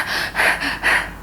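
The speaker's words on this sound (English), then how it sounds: "this is called panting." A person panting as if after running, four rapid breathy pulses in quick succession, loud and close with no other sound.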